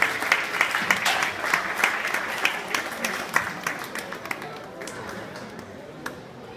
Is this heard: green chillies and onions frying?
no